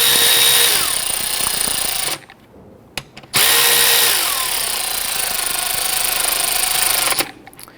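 A power tool snugs down bolts on a Kia Sorento engine, two loud whirring bursts close by with a short pause between and a brief stop at the end.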